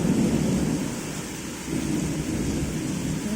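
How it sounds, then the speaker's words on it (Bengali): Thunder rumbles during a heavy midday rainstorm over a steady hiss of falling rain, with deep rolling swells and no talk. "মেঘ ডাকছে কি"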